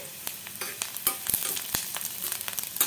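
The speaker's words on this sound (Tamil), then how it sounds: "ஒரு ரெண்டு மூணு நிமிஷம் நான் நல்லா மீடியம் ஃப்ளேமில் வச்சுட்டு நல்லா வதக்கி விட்டாச்சு" Ingredients for spicy aval ragi kozhukattai sauté in a pan over a medium flame, giving close, busy frying crackle broken by repeated spatula scrapes and taps.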